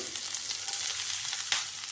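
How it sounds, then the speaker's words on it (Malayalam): Grated coconut with a little onion sizzles and crackles steadily in a hot pan as it browns, a close, continuous frying hiss with small pops. "ഇനി തേങ്ങ വറുത്തെടുക്കാം"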